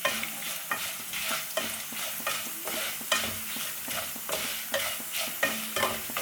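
A quarter teaspoon of whole black peppercorns roasts in oil for egg curry, frying with a soft, steady sizzle while a spoon scrapes and stirs in a regular rhythm about twice a second.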